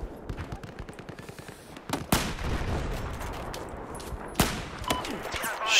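Battlefield 4 multiplayer gunfire: rapid automatic bursts and heavier single shots crack close by in quick succession, with a couple of sharp, loud blasts standing out over the steady din of battle.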